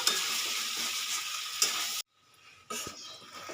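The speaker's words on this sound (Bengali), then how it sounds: "এই যে এটা আমি তিন মিনিট মতো কষিয়ে নেব" Jackfruit and prawn curry stir-frying in a pan, a steady close sizzle with scraping stirs that cuts out briefly before the frying noise resumes.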